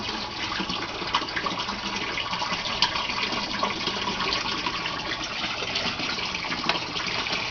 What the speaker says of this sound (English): So we have the grow bed draining.